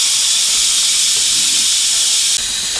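Steady, loud hiss of steam venting from a 6-quart Instant Pot pressure cooker during pressure release, continuous and close, with a slight drop in level near the end.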